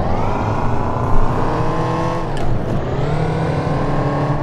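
A car in City Car Driving accelerates hard in off-road mode, its engine droning loud and close at steadily rising revs, with a brief dip around a gear change before climbing again.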